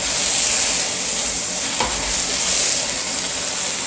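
Vegetable leaves are stirred in a pot of Nigerian vegetable soup over low-medium heat, with a steady loud sizzle and a soft scrape partway through.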